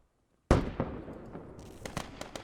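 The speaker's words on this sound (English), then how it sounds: "Dude, underhanded grenade right here" A video game grenade explodes with one sudden loud blast after near silence, followed by a decaying rumble and a few scattered sharp pops.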